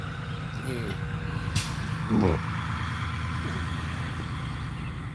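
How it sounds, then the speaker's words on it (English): A jug delivery truck idles outside with a steady low engine rumble, joined by a brief sharp air-brake hiss partway through, heard from a short distance under faint voices. "That truck out here, that's the jug truck."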